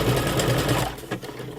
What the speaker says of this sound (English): and then I sew a few stitches.